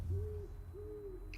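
Two drawn-out owl hoots, each a steady low tone, sound in a quiet outdoor scene in the video game Life is Strange: Double Exposure, followed by a brief bright chime at the end.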